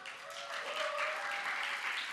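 Brief burst of audience applause during a church sermon, a soft, distant wash of clapping from the congregation lasting a couple of seconds.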